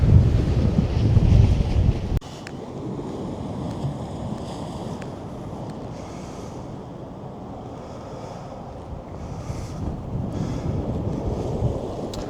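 Storm on Lake Erie in December: heavy gusts buffet the microphone in a loud roar for the first seconds, then a sustained rush of wind and crashing surf continues, steady and broad with no voices.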